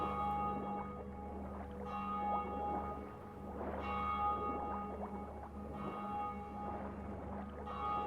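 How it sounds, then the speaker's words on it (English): A noon church bell tolls in the Witcher 3 video game, a few slow resonant strikes roughly every two seconds over a steady low ambient hum of water and wind. "So it must be the noon bell."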